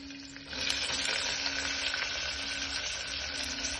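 Curry leaves and onion sizzling in hot oil in a pan, a steady close crackle with faint stirring scrapes, no voices.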